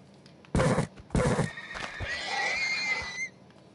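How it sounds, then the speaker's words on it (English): A horse whinnies in the Minecraft video game with a loud, close neigh. Two bursts of hoof or hit sounds come first, then a drawn-out wavering whinny lasting over a second. "I killed the horse"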